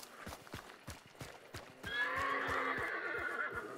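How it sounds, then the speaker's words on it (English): Quick rhythmic hoofbeats from a horse in Hunt: Showdown, joined midway by a long, loud neigh over the continuing clip-clop. "Horse."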